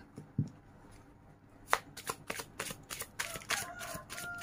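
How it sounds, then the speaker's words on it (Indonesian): Tarot cards being shuffled by hand, a quiet, close riffle of rapid papery flicks and soft slaps that begin sparse and gather into busier bursts toward the end. "Tria shuffle kartunya"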